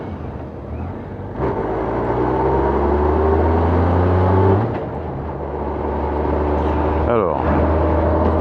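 A motorcycle engine runs close by with a steady low idle that swells briefly as it revs, while someone talks over it.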